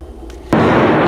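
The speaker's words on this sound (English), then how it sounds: "caught on camera an explosion at a fireworks warehouse in Beirut" A loud explosion at a fireworks warehouse in Beirut hits suddenly after a faint pop, then a sustained broadband roar and crackle fills the rest of the moment.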